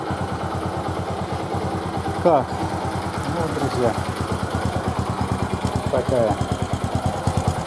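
Bajaj Boxer motorcycle engine idling warm, a steady low rhythmic putter running continuously beneath someone speaking Russian close by.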